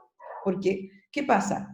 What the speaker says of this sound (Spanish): que tengo 2 perros y hasta ahora comen, entonces están ladrando.